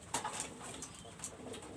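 Pigeons coo quietly at a flying and breeding pigeon loft, low murmuring calls with brief higher chirps, steady and fairly faint, with no talk.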